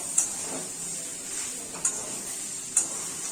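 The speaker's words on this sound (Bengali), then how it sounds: "এবার পটল আর আলুগুলো দিয়ে দিচ্ছি, সবগুলো মিলে একটু ভালো করে নাড়াচাড়া করে" Pointed gourd and potatoes being stirred in a pan: a steady frying hiss runs throughout, broken by three sharp utensil taps against the pan.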